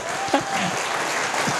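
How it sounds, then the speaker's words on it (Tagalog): A church congregation claps during a sermon, a dense, even burst of applause with a few voices mixed in. "Parang i-reserve natin para kay Pacquiao, palakpak natin"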